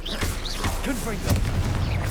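Confringo fire spell blasts in Hogwarts Legacy, several booming bursts and pops over a dense game soundscape with music, including a stronger hit near the end.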